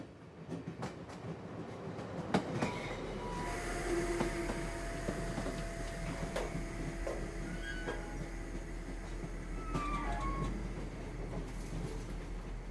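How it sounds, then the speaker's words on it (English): A train rumbles steadily along the rails with low droning and faint wheel clatter, occasional squeals and clicks rising over the continuous noise. "The train starts to decelerate, a gentle indicator that the voyage is nearing its end."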